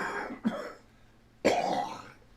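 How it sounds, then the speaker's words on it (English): Two close coughs from a man on a live radio stream: a short clearing hack, then a longer, harsher cough a second later in a quiet room. "Cough, cough, cough, maybe. It's already starting."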